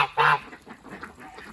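Several farm ducks call from a 40-acre farm with a lake, one loud honking burst up close followed by quieter, scattered calls.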